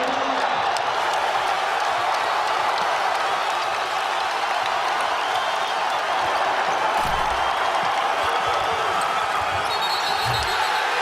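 A home basketball arena crowd roars for Providence against Xavier, and the loud, sustained cheering and clapping fill the space while a ball thuds on the court now and then.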